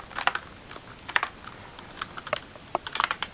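Fast, irregular clicking of a computer keyboard, with quick clusters of keystrokes and short gaps between them, close and fairly light, with no voices.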